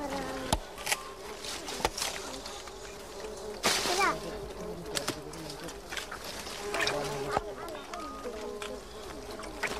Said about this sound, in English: Luckily, these bees don't sting.